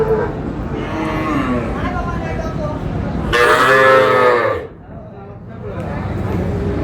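Cattle moo loudly and close at a busy Jessore livestock market selling small bulls, with one long drawn-out call rising above a steady crowd murmur and people talking throughout.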